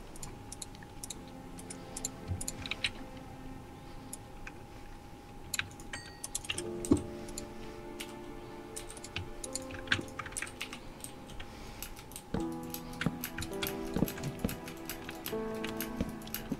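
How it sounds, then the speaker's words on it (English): Hard, clattering keystrokes on a computer keyboard during a Minecraft session, dense irregular bursts of clicks running the whole time over steady game background music. "So that's stomping on the keyboard."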